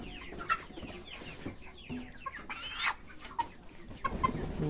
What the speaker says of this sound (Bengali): ভাগনা একটা মুরগি ধরে নিয়ে আসতেছে।